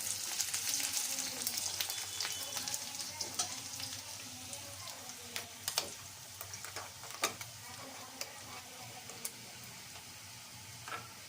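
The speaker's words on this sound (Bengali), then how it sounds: "পেঁয়াজটা লাল করে নিচ্ছি।" Onions frying in a pan until browned, a steady close sizzle with occasional sharp clicks and scrapes of stirring, no voices.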